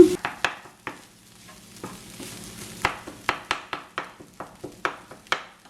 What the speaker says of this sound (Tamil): இப்போ நாங்கள் ஒரு இன்னொரு நாலு நிமிஷம் இதை கிளறி கிளறி வறுத்தெடுப்போம்